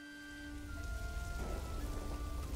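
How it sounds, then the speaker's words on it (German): Rain in the medieval city-building game Manor Lords pours in a steady, dense hiss that swells over a few seconds, with faint tonal game music underneath. "Und das ist ein schlechtes Timing, wenn es im Juni regnet."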